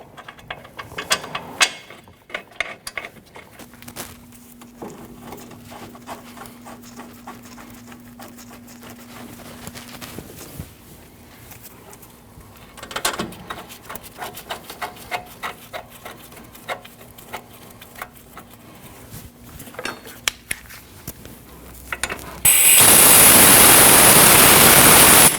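A hand ratchet tightens front caliper bracket bolts on a 2003-2008 Subaru wheel hub, giving a steady run of close, fast clicking that lasts most of the stretch and ends in a loud burst of noise.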